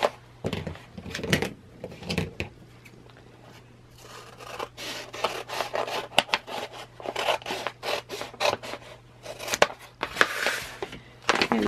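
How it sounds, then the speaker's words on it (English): Scissors snip through a sheet of self-adhesive craft vinyl, giving a run of short crisp cuts with rustling and handling of the sheet between them, close and fairly quiet, with no talking. "So I think I'll cut at this line."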